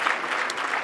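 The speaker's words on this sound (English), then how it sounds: "yeah, clap for Tennessee." Audience at a national bike summit lunch plenary applauding, a dense, steady wash of clapping throughout the short stretch.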